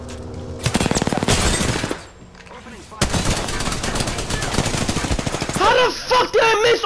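Sustained rapid automatic fire from a Spitfire light machine gun in the battle royale shooter Apex Legends, long loud close bursts broken by a short pause, with a voice talking at the end.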